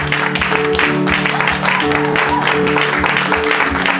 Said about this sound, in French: On applaudit le roi des rois.